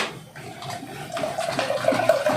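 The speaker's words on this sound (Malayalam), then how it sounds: "നമുക്ക് കുറച്ചും കൂടി വെള്ളം ഒഴിച്ചു കൊടുക്കുന്നുണ്ട്." Water is poured into a summer fruit juice to thin it, giving a steady splashing, trickling wash that grows slightly louder and fuller over a couple of seconds, close and with no one speaking.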